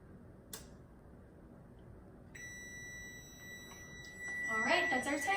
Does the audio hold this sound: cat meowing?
no